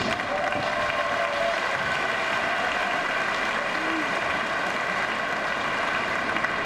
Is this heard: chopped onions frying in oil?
no